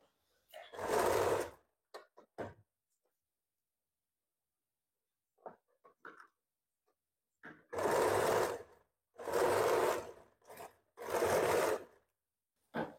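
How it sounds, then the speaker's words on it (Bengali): A sewing machine stitches a blouse in four short bursts, one early and three close together near the end, separated by quiet stretches with faint handling clicks. "আমি মাপ ছাড়া জাস্ট এমনিতে সেলাইটা করছি দেখানোর জন্য"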